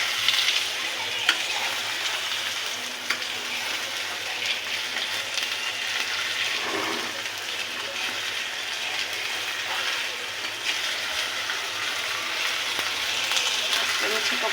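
Noodles fry in a small kadai on a home stove, a steady close sizzle that runs throughout with scraping and stirring sounds as they are turned.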